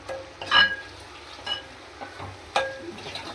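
Chapala fish curry being stirred in a pan, a few distinct scraping strokes of a spoon against the metal at a steady, unhurried pace over a soft bubbling simmer, close up and with no talking.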